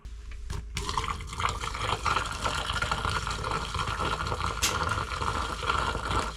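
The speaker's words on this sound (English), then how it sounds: "I'm boiling some water to dump down my drain to keep my shower drain from freezing" Boiling water is poured down a shower drain in a cabin to keep the drain from freezing. After a brief quiet moment, a steady splashing, gurgling stream runs close by and continues without a break.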